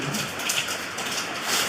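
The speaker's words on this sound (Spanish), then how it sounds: "ahorita está lloviendo" Steady rain falls without pause, a dense even hiss of drops with no voices over it.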